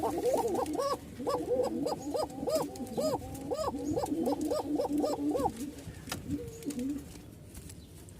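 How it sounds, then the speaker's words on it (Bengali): Rajshahi Giribaz pigeons coo in a steady run of repeated rising-falling calls, loud and close, with the cooing tapering into a few scattered softer calls near the end. "এমনি কবুতর ডাকতে চায় না, তো একটা মাদি দিলাম, যার কারণে দেখতে পাচ্ছেন যে কেমন ডাক"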